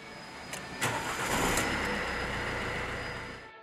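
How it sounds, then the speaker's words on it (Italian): A car with a flat battery, jump-started with cables, cranks briefly and fires up, then settles into a steady idle at moderate distance with no talking. "Vedrete che la vettura si accenderà."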